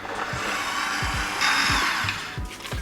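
An electric mixer whirs steadily on slow, beating room-temperature cream cheese into frosting for a red velvet cake, a continuous close hum with faint rhythmic knocks of the beaters against the bowl.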